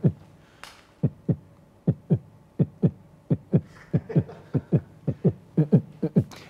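A heartbeat sound effect thumps in steady paired beats, loud and close, speeding up slightly toward the end, with faint background tones between beats.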